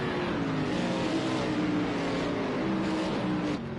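Race cars roaring around the Sonoma road course during a CSKL event, engines droning loud and steady with shifting pitch as several cars pass close, continuous throughout.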